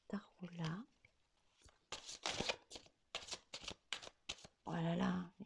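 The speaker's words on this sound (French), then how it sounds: "je t'ai encore tiré une carte dans ce tarot-là" A deck of tarot cards is shuffled and a card drawn, giving bursts of quick riffling, flicking and slapping close to the microphone, with soft voice sounds at the start and end.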